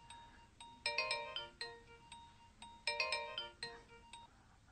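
A phone ringtone plays a bright electronic melody in two bursts of repeating tones, fairly quiet and clear, with no talking.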